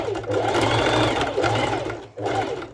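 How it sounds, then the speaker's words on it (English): A domestic sewing machine stitches fabric back and forth in steady whirring bursts, its motor humming in repeated runs with a short pause before the last stretch, close and clear. "I'll be going back and forth just a few times with my normal sew machine"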